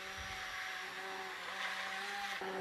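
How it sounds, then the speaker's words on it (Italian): An immersion blender runs steadily through a pot of vegetables, including lettuce and potatoes, with a continuous loud whirring drone and a slight shift in pitch near the end. "andiamo a frullare con il nostro frullatore ad immersione"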